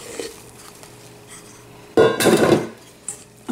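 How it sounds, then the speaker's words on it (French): Egg whites folded into a tiramisu mixture with a wooden spatula: a short burst of scraping and knocking against the bowl, loud and close, with small clinks around it. "en mélangeant avec une spatule en bois."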